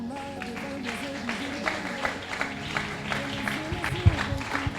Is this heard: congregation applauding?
yes